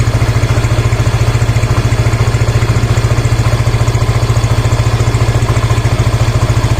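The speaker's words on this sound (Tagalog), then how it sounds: "dahan-dahan na pong bumababa itong ating idle" A Yamaha Mio i 125 scooter idles loud and close, its rapid, even engine pulse steady and unbroken as the idle speed slowly lowers, with no voices.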